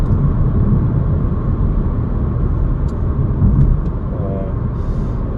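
A Kia Soul Booster 1.6 turbo moving through a corner, heard from inside the cabin as a steady low engine and road drone under someone speaking Korean.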